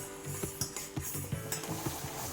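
Homemade cough syrup boils in a pot while a spoon stirs it, making soft, quiet scrapes and light metallic clinks in an uneven rhythm over a low bubbling hiss.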